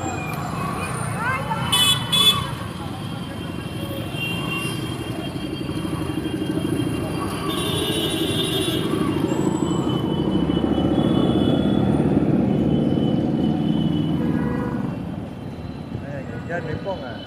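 Continuous low rumble of busy Chennai road traffic with engine drone and occasional faint horn toots, under a person talking.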